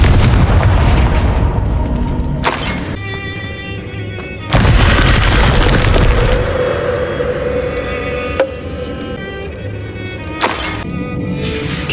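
Confringo fire spell explosions in the Hogwarts Legacy video game, several loud booming blasts spaced a few seconds apart over a dense, continuous game soundscape.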